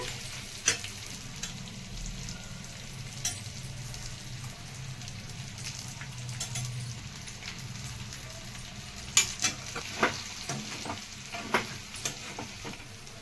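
Chicken frying in a pan as masala powder is stirred in, a steady low sizzle with scattered scraping stir clicks and a few sharper taps, close and alone without talk.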